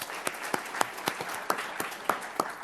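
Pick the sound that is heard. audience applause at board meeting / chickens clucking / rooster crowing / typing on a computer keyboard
audience applause at board meeting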